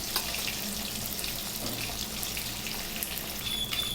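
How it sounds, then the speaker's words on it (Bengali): Katla fish pieces frying in hot oil in a home kitchen, a faint, steady hissing sizzle with small crackles and pops running evenly throughout. "ঠিক এইভাবেই বাকি মাছগুলোকে ভেজে নেব।"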